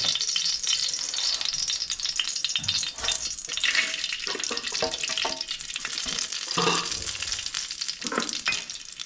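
Food for a varal fish biryani roasts in ghee, loud and close, a dense crackling sizzle with scraping and stirring from a spoon running throughout.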